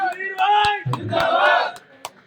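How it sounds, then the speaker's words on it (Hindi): A crowd at a Nationalist Congress Party office birthday celebration shouts a slogan together in loud, drawn-out voices, with a few sharp claps cutting through. "सब लोग जोरदार तालियों के साथ बजरंग भाई जिंदाबाद"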